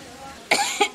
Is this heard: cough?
yes